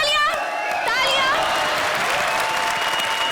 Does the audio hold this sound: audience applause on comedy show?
yes